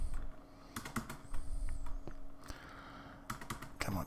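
A computer keyboard that seems to be acting up is typed on close by, with bursts of sharp clicking keystrokes at an irregular rhythm and no talking.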